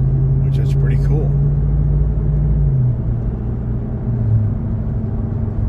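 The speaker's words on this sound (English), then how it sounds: "You hear that nice, you hear the supercharger, which is pretty cool." Ram TRX pickup truck with a supercharged engine, heard as a loud, steady low drone with a faint whine that drops in pitch about halfway through and then holds.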